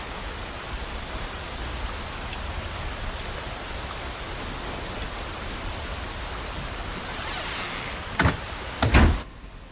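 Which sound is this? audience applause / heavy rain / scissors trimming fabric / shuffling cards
heavy rain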